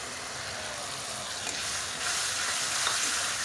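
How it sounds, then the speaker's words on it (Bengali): Mustard paste and turmeric being stirred in a hot frying pan give a steady, close sizzle that holds throughout and swells a little partway, with a faint low rumble underneath and no talking. "দিয়ে একটু নেড়ে চেড়ে নিলাম"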